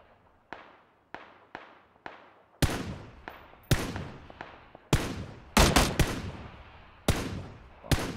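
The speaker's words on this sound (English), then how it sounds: "I can hear Ghost's gun firing from HDA" Rifle fire in PlayerUnknown's Battlegrounds: sharp separate gunshots, first single spaced cracks, then louder, closer bursts with echoing tails in an irregular rhythm of about a dozen shots.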